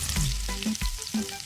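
Fish fries in hot oil in an animated cartoon kitchen, a busy close sizzle with crackles and short bubbling bursts, heard alone without voices.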